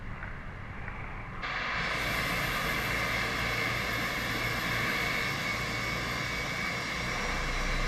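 Airbus A319 in Microsoft Flight Simulator taxiing under GSX ground service, a steady engine whine and broadband roar that swells after a quieter first second and then holds loud and constant with no talk.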